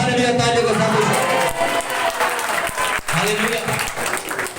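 A church congregation at a Sunday sermon claps loudly and steadily, with voices calling out over the applause.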